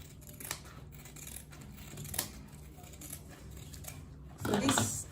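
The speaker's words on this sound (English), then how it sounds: "So I'm just cutting on the line, on this line that I've marked with a pen." Scissors snipping through fabric along a line marked in pen while a clutch purse is being sewn, giving soft, repeated close snips and a louder burst of cutting near the end.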